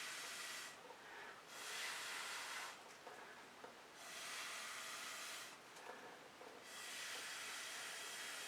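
Breathy blowing on freshly poured fluid art paint, three long loud hissing bursts, each lasting a second or more, separated by short pauses, close by with no talking.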